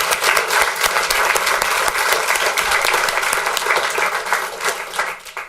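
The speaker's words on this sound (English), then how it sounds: "Round of applause for Mr. Steve Spraker." Sustained audience applause at a school board meeting, many hands clapping steadily and fairly loud for about five seconds before fading at the end.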